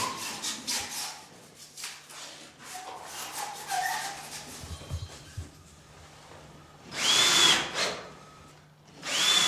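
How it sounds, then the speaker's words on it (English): A power drill driving self-tapping screws into plasterboard on lightweight partitions, several short whirring bursts with pauses between, the last two louder and closer. "The plasterboard is fixed to the lightweight partitions with self-tapping screws."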